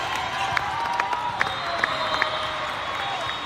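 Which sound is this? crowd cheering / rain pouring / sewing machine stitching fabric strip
crowd cheering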